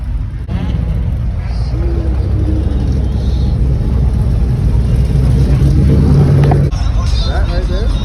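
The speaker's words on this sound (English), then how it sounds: "Look at the exhaust off. He on dump," A car revving at a Houston car meet with its exhaust dump open, a loud, deep engine drone that holds strongly through the clip with a rise near the end, while people talk and exclaim nearby.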